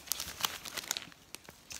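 Thin plastic sleeve bags, cheap dollar-store pouches for sealing a tablet, crinkle and rustle as they are handled, giving a string of quick, light crackles up close with no talking.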